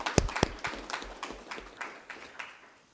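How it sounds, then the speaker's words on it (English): Brief applause for a departing member at a regular council meeting in Eastern Charlotte, a few sharp claps up front followed by a thin, scattered patter of clapping that quickly tapers off. "A big round of applause for Chris."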